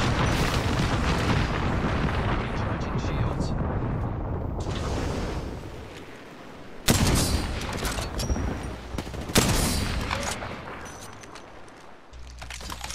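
Heavy gunfire erupts in a shooter video game, loud bursts of automatic fire and booming blasts, easing off briefly midway before sharp new volleys crack out again, with no speech.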